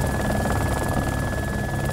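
A helicopter sounds as a continuous, loud, close rotor-and-turbine roar with a steady high whine, heard alone.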